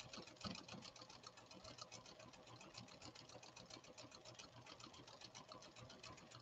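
A Pfaff Creative 1471 sewing machine runs at high speed stitching a complex pattern, a steady rapid mechanical chatter with even repeating clicks, close and continuous without any talk.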